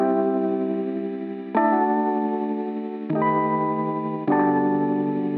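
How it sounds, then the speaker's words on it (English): Electric piano sounding through Omnisphere's old radio EP patch with the RC20 lo-fi effect, playing four sustained chords one after another, each struck and left to ring with a warm, band-limited, wavering vintage tone and no voices. "this is the old radio EP in Omnisphere."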